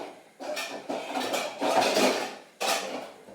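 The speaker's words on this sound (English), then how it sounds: "Now I can put that back on the hob now, and I've got a lid for that." A metal lid set onto a pot on a kitchen hob, with a few close clanks and clinks of cookware spaced over a few seconds, no talking.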